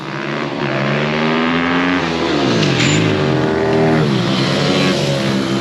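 A supermoto motorcycle engine howls loudly along a track straight, pitch climbing and dropping through gear changes and throttle shifts as riders slide into corners, close and continuous.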